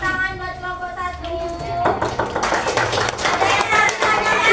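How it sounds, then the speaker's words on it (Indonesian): A classroom bursts into applause for group 1, a quick patter of many hands clapping at close range that starts after a spoken line and continues, mixed with children's chatter. "Kita kasih tepuk tangan buat kelompok 1"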